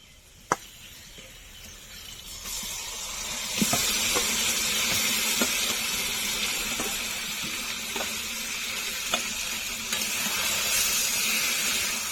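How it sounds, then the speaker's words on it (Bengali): Marinated chicken frying with onions in a pan for biryani: a quiet hiss, then a clank around the four-second mark brings a louder, steady sizzle with scattered soft pops and ticks. "পেঁয়াজ ভালো করে ভেজে নিয়েছি, এখন ম্যারিনেট করা মাংসটা দিয়ে দেব।"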